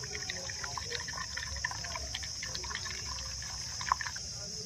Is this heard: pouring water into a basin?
yes